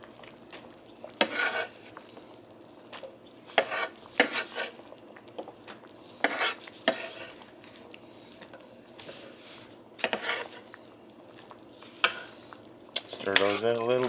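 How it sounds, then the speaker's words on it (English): Peppers are stirred into pepper steak in a crock pot set on low, with intermittent spoon scrapes and clacks against the pot in short bursts over a quiet background, no voices. "Stir those in a little bit."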